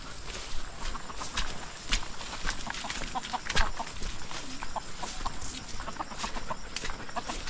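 Quail calls chirp repeatedly over a steady outdoor rustle, short bright notes scattered throughout, with faint footsteps and movement nearby.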